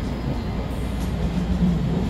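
Steady low rumble of a train in motion, heard from on board during a trip through Fukuoka and Oita, continuous and moderately loud with no talk over it.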